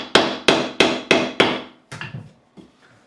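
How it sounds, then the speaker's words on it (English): Hammer taps a fret into the fingerboard of a Chinese-made Fender Modern Player Stratocaster during a refret: five sharp, evenly spaced close knocks, then a few lighter, quicker taps. "We could even just tap it in with the hammer."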